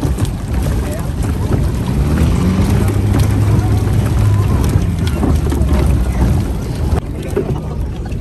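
A motorized bangka carries passengers on an island-hopping trip off Boracay, Philippines. Its engine drones steadily and loudly, with wind buffeting the microphone throughout.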